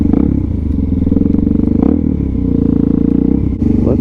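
A Suzuki DRZ400SM fitted with an FCR39 carburetor idles a little high in the snow, its engine a loud, steady, close thump that runs throughout with a brief dip near the end.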